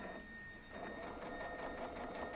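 A sewing machine stitches straight across a kids' mood pillow, a steady fast mechanical whir with rapid needle ticks that picks up slightly after a brief quieter start, close and moderately quiet.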